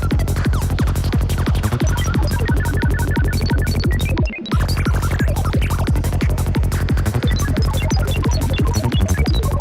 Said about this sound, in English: Is that a sample and hold circuit on the synth?